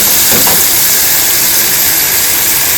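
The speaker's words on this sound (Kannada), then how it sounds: "ಇದ್ರ ಟೊಮಾಟೋನೆಲ್ಲ ಮೆತ್ತಗಾಗೋವರೆಗೂ ಫ್ರೈ ಮಾಡ್ಕೋಬೇಕು" Onion and tomatoes fry in a pan for egg roast, a loud, close, steady sizzling hiss that fills the scene without pause.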